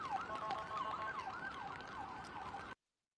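An ambulance siren wails in a steady rising and falling cycle, heard at moderate distance over faint traffic noise, then cuts off abruptly.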